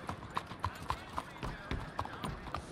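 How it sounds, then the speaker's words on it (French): Horse hooves in the Red Dead game clip-clop in a steady trotting rhythm while someone talks over them. "Mais qu'est-ce que fait mon cheval là?"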